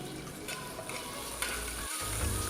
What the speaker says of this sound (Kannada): ಸ್ವಲ್ಪ ಕರಿಬೇವಿನ ಸೊಪ್ಪು ಹಾಕಿ ಚೆನ್ನಾಗಿ ಫ್ರೈ ಮಾಡ್ಕೊಳ್ಬೇಕು